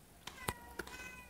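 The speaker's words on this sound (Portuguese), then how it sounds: "E a gatinha me aparece aqui, miando, miando, miando." A cat meows in a short run of brief calls, three quick faint mews close together, set against a quiet background during a Plants vs Zombies 2 rooftop level, with no voices over it.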